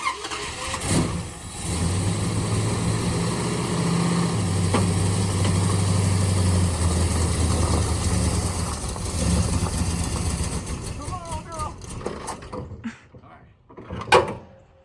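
Engine of a 1971 Dodge Charger Super Bee started and running: a rumbling idle with a raised-pitch stretch in the middle, continuing loud and close before cutting out near the end, with a brief loud burst afterward.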